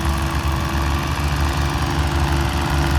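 A low, steady John Deere tractor engine rumble with a rhythmic throbbing, running close by without pause for a few seconds.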